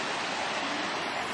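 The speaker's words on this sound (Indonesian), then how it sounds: "Jadi benar-benar air terjun. Jadi airnya dari atas turun ke bawah." Water falls from top to bottom at Xiaowulai waterfall as a steady, full rushing roar with no variation and no voices.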